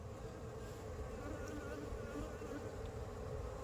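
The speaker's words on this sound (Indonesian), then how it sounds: "Saat ini lebah sudah mulai keluar" Aggressive Apis cerana honeybees pour out of a smoked hive, making a dense continuous buzzing swarm drone that holds steady throughout, moderately loud and close, with no voices.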